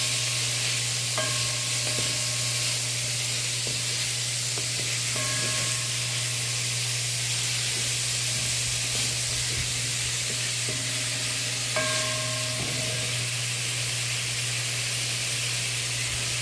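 Smoked herring and red onions sizzle steadily in a pan, a constant hiss with occasional spoon scrapes and clinks as the mix is stirred, close and without talk.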